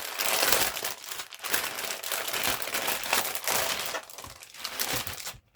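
Crinkly plastic packaging holding twine-rope craft trims is pulled open, giving a close, steady run of crackling and crumpling with brief pauses between handfuls.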